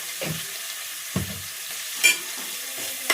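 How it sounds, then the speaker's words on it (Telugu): Ginger garlic paste hits a hot pan for bagara rice and sizzles, with several distinct stirring scrapes standing out over a steady frying hiss, close and fairly quiet. "ఇప్పుడు అల్లం వెల్లిగడ్డ వేద్దాం."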